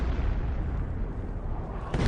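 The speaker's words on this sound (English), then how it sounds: "Or I hear more off-map artillery." Off-map artillery explosions in a Company of Heroes style strategy game, a dense continuous rumble of booming blasts with a fresh burst at the end, loud and close, with no talking.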